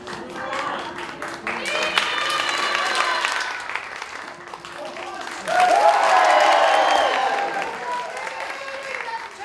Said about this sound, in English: Quick round of applause so we can move on.